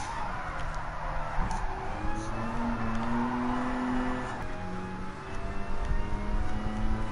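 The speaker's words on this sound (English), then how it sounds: "It's weird how the turbo sounds like a supercharger when you're inside the car like this." From inside the cabin, a Ford GT's turbocharged engine in Gran Turismo Sport drones and whines loudly and steadily, its pitch rising and shifting through gears with no talk over it.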